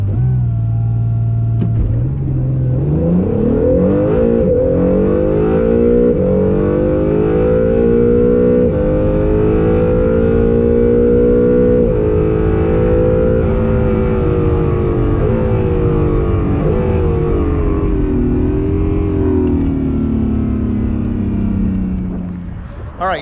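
Acura NSX launching on a cold quarter-mile drag strip, a loud, close engine roar climbing steadily through the gears for about twenty seconds before easing off.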